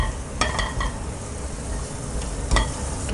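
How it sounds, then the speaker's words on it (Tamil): Cashew halves fry in ghee in a pan with a steady, close sizzle, broken by a few sharp scrapes of stirring near the start and again toward the end. "ஒரு 15 முந்திரியை 2ஆக உடைச்சிருக்கிறேன். இதை வந்து நெய்யில் ஃப்ரை பண்ணிக்கலாம்."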